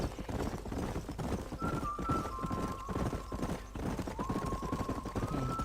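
A horse in the Red Dead Redemption western video game trots with rapid, steady clip-clop hoofbeats, heard close and fairly faint, with a drawn-out whinny rising over the hooves midway and again near the end.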